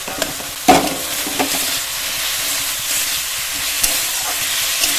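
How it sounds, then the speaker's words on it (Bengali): Masala with fried potatoes and prawns sautéing in a pan for a patal chingri dish, a steady frying sizzle broken by several spoon clacks and scraping stirs, close and clear, with no talking. "আরও 2 মিনিট কষিয়ে নেব।"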